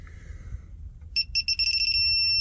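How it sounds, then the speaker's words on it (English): A torque wrench starts rapid electronic beeping partway through, a quick string of high pulses that merges into one steady, loud tone, with low mechanical rumble underneath. "You can see it started beeping."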